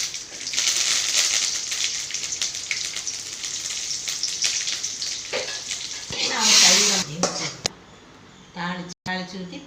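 Spices tempering for sambar sizzle and crackle steadily in hot oil at close range, with a louder hissing burst near the end as the tempering is poured in, followed by quieter stirring.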